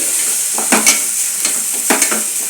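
Coriander and chili powder masala fries in a little oil, giving a steady close sizzle with a few scraping stirs of a spoon through the pan.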